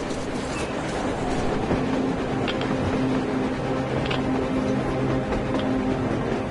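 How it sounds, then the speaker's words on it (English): A train runs on the surface in the Metro Exodus video game, heard as a steady, dense rumble with faint clacking and low hums, continuous and fairly loud with no talk. "A train! A damn train on the surface!"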